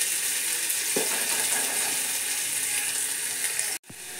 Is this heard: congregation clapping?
no